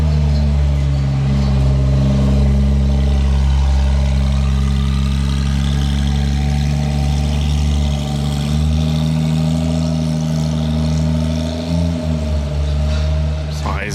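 A Porsche Carrera fitted with a loud aftermarket exhaust growls and revs steadily for the whole stretch, a heavy, booming engine note that stays close and dominant, with pitch rising and swelling toward the end.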